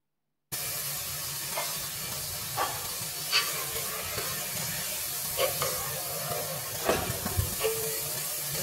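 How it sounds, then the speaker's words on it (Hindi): Garlic, onion, tomato and green chilli sizzle in oil inside a pressure cooker, giving a steady close hiss with occasional louder pops and stirring clinks. "बस इनको थोड़ा सा ऑयल में पकाना है ताकि ये सॉफ्ट हो जाए"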